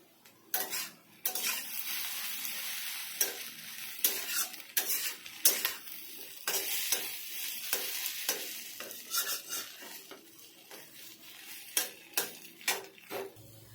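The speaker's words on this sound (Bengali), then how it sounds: "আলু আর ডিমটা খুব ভালো করে ভেজে নিয়েছি" Potato and egg frying in a pan, a steady close sizzle broken by frequent sharp scrapes and clinks of a spatula stirring against the metal, no voices.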